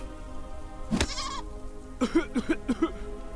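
Cartoonish goat bleats from the adventure game Deponia Doomsday: one wavering bleat near the start, then a run of three shorter quavering bleats, close and clear with no talk over them.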